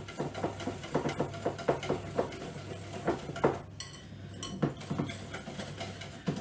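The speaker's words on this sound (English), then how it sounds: "I'm just going to whisk that in while we're waiting on that milk" Whisk beating corn flour into an egg and sugar mixture in a bowl, a soft rhythmic series of light scraping taps against the bowl, fairly quiet and close, with no talk.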